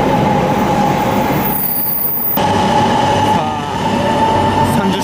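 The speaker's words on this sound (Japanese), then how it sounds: "新幹線が大宮を後にしまして" An E7-series Shinkansen pulls away from Omiya station, a steady loud rolling roar with a high whine and a brief squeal, under constant station and train noise.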